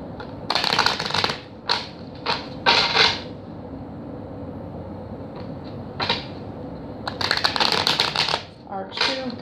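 A deck of tarot cards being shuffled nearby in several quick riffling bursts, separated by short pauses, loud and crisp, with no talking.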